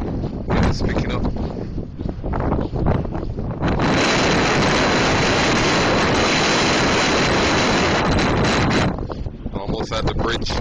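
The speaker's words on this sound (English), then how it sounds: "Oh, it's so windy now." Strong wind roars and buffets the microphone near a bridge by the water in Montreal, a loud, dense rush that swells heavily in the middle and eases slightly toward the end.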